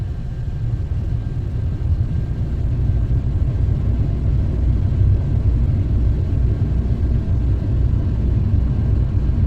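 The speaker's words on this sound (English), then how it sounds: "Here comes the blower motor." The heater blower motor of a 1999 Cadillac Eldorado runs with a steady, low rumbling whoosh throughout, with a faint constant whine above it and no other sounds.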